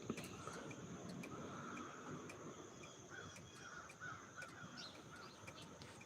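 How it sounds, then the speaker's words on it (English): Several crows caw repeatedly outdoors at a moderate distance, their calls scattered over a steady background of insects and faint ambience. "Boy, I hear a lot of my crow buddies out there."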